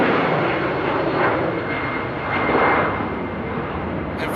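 Loud, close roar of a Turkish Airlines jet in red-tailed livery taking off at Amsterdam airport, a steady broadband engine rush swelling and easing slightly over a few seconds with no talk.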